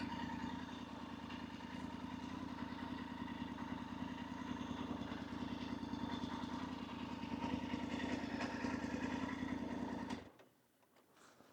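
A motorbike engine idles steadily and close by for about ten seconds, a continuous throbbing rumble, then cuts out, leaving near silence, on a solo touring trip through Scotland.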